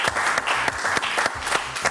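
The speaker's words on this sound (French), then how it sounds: "Je vous demande d'applaudir également Miss JJDA, qui fait partie de mon décor" Studio audience applauding on a French television show, a dense clapping wash with a few sharp louder claps punctuating it, steady and fairly close for two seconds with no speech.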